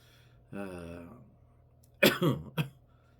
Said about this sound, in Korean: 제가 요새 장기침이 자꾸만 나서 말씀을 전하다 기침을 자꾸 하게 돼요.